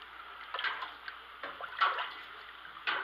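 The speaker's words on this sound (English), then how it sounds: "Well, this is almost all rinsed through, or rinsed off." Running water rinses fruit and sugar off in a kitchen while making caramel pineapple wine, a soft steady trickle broken by several louder splashing surges.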